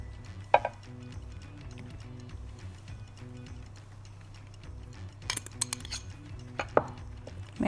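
A spoon clinks and scrapes against a bowl while melted butter and gata are stirred into a dough mixture for crushed pakhlava, with faint, irregular taps at close range.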